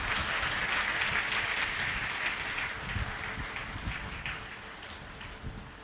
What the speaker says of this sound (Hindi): जोरदार ताली यीशु मसीह के लिए